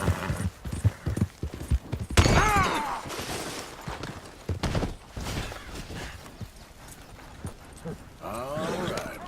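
Horse hooves in the western game Red Dead Redemption 2, irregular thudding hoofbeats mixed with sharp bursts and a horse's whinny, with a voice talking briefly over the scene.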